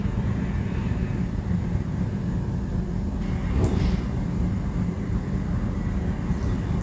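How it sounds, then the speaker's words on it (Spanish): Airplanes pass overhead as a steady, fairly loud low rumble that fills the whole stretch without breaks, with no talking. "a la hora de pasar todos los aviones cuando yo grabo"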